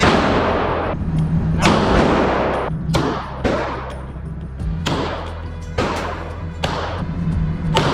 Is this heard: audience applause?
no